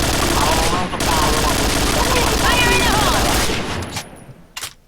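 Loud, dense gunfire in the online shooter game Point Blank, with rapid overlapping shots that run continuously for about four seconds before tailing off into a few scattered bursts.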